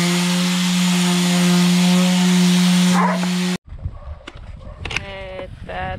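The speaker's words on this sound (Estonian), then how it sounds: "Väike köögikappide lihvimine on käsil." An electric sander works over kitchen cabinet doors, giving a loud, steady motor whine for a few seconds before it cuts off abruptly, followed by scattered knocks and other household sounds.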